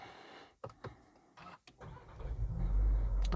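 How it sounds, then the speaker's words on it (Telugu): A Volkswagen Taigun engine cranks and starts after a few interior clicks, then settles into a rising, steady low idle rumble heard from inside the car on a rainy day. "కార్ స్టార్ట్ చేసేసాను ఎందుకంటే ఉడకపోస్తుంది, వర్షాకాలం కాబట్టి."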